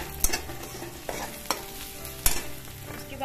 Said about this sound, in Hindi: सबसे पहले हम नमक डालेंगे, चलाएंगे इस तरह से।